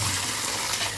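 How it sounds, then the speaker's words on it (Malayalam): Water pours steadily into a vessel for soaking, a continuous close splashing gush lasting about a second with no voices. "കുറച്ചുകൂടെ വെള്ളം ഒഴിക്കാം അല്ലേ"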